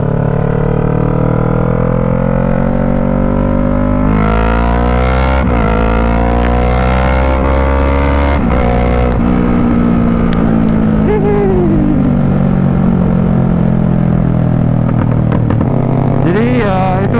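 A motorcycle ridden hard with clutchless gear shifts, its loud engine revving and rising in pitch, briefly dipping at each quick shift before pulling again, continuous and close throughout.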